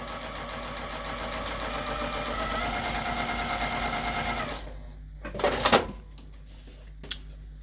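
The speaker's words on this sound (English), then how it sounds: "Sewing right on that line." A sewing machine stitches quilt fabric along a marked sew line for a Starry Night block-of-the-month quilt, a fast, steady whirring chatter for several seconds that stops abruptly, followed by soft fabric rustling and handling clicks.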